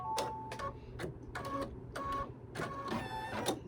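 A DIME machine embroidery stitches a school bus design in darker brown thread, its needle hammering in rapid mechanical bursts separated by short pauses, close and steady.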